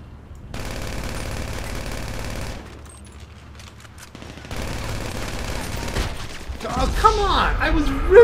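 Sustained machine gun fire in GTA 5 Online, heard as dense, continuous bursts that pause briefly midway and then resume with rumbling game noise.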